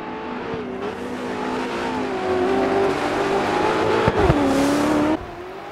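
Rally car drifting in DiRT 4, a loud engine revving steadily and rising in pitch with gravel and tire noise, a brief burst near the end before it cuts off.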